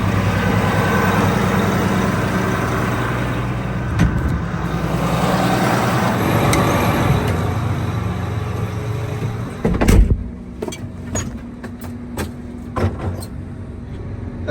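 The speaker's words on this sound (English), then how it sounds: "so we can turn that other tractor around. We'll leave it running." A farm tractor is left idling close by with a loud, steady diesel rumble, then a few sharp clunks and knocks near the end as the engine note drops.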